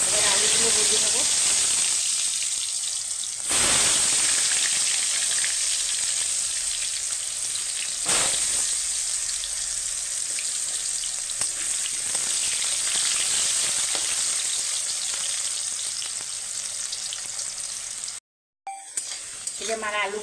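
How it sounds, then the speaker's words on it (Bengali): Potato pieces fry in hot oil in a wok-style pan, a steady loud sizzle with brief stirring bursts, running almost unbroken under occasional talk before a short cut near the end. "এবার আলুগুলো ভেজে নেব।"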